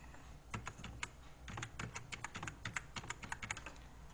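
Someone types a new password on a computer keyboard, the keystrokes coming in irregular quick clusters of close, crisp clicks with brief pauses between bursts, and no talking.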